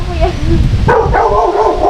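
A dog gives a couple of short yipping barks and whines, close and loud, with people chatting nearby.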